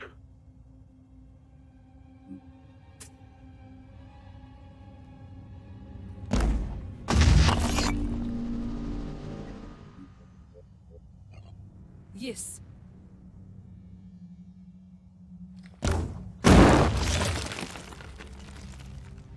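Two grenades go off in a video game, each a sharp shattering boom with a lingering rumble, the first around the middle and the second near the end, with people talking over quieter moments.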